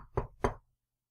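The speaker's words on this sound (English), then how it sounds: "There was a knock at the door." Two knocks land on a door about a quarter second apart, close and dull, followed by silence.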